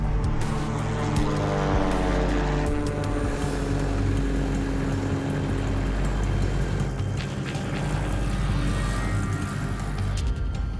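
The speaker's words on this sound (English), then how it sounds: "The engine sounds good though so far." A ferry plane's engine runs steadily throughout on a test flight before an ocean crossing, a loud, continuous droning hum with a deep rumble and no talk.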